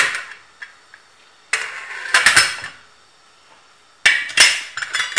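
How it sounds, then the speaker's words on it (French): A metal pressure cooker pot lid being closed, with several sharp clanks and scrapes in separate bursts, close and clear, with quiet pauses between. "Je ferme ma marmite."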